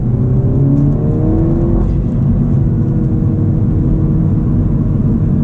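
A modified Mini Cooper S fitted with a JCW Pro exhaust revs loud and close, its engine rising and falling in pitch with a steady throaty drone throughout.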